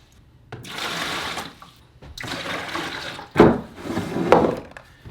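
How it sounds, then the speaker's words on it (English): A bucket fills with a gallon of water for mixing plant nutrients, a steady rushing pour that runs in several bursts with short pauses between, fairly close and loud with no talking. "We'll just get us a bucket, fill it with a gallon of water"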